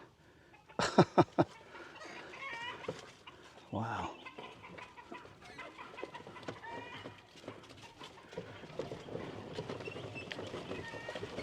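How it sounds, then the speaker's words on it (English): Egg-laying hens cluck in a farm pen, a few loud squawks early followed by steady softer clucking, with a person speaking briefly nearby. "there's a bunch of the egg layers over here"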